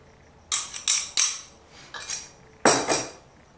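A spoon mixes shortbread ingredients in a bowl, giving about six sharp clattering scrapes and clinks in uneven bursts, close by with no talking.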